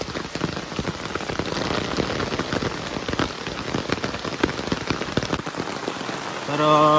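Heavy rain pours steadily and close by on a rainy day in the Konkan countryside, a dense continuous hiss with no voices, briefly joined by a faint tonal sound near the end.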